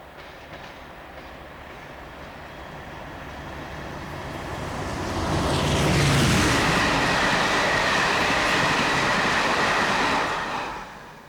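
A British Rail class 47 locomotive and an HST pass through a Birmingham suburb near Tyseley, a distant rumble building into a loud, close roar of wheels and engine that holds steady before easing away.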